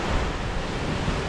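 Sea waves and wind on a stormy coast, a dense steady roar of surf with wind buffeting the microphone, loud and continuous with no talk.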